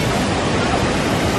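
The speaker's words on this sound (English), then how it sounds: "Waterfalls everywhere." Outdoor waterfalls roar as a steady, loud, unbroken wash of rushing water, with no voices or other distinct sounds standing out.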